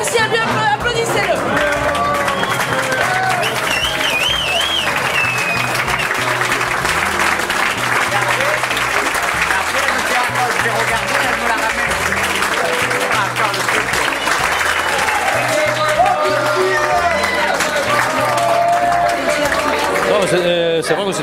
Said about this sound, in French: Merci à lui, applaudissez-le.